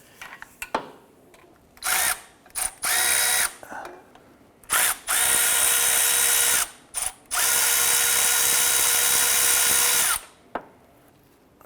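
Power tool bursts remove a bolt from the hydraulic timing belt tensioner on a 2009-2015 Honda Pilot, several short whirring pulses followed by two longer sustained runs, loud and close with no talking.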